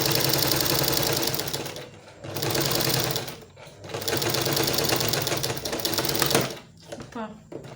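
Sewing machine stitching a corset cup, running in steady loud bursts with brief pauses between runs, close by.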